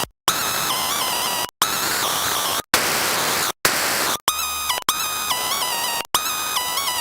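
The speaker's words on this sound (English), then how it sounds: "We could probably actually go with white noise." White noise from the noise oscillator in the Serum 2 synthesizer plays in a series of loud sustained bursts separated by brief silences, each burst shaded with shifting tonal and pitched layers from distortion.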